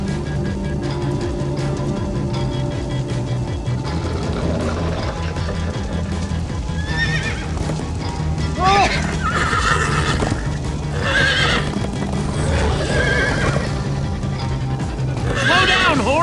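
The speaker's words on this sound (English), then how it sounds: "Slow down, horse!" Horse neighing and whinnying with clip-clop hooves in a Minecraft Story Mode animation, several whinnies over steady hoofbeats and a busy score, with voices talking.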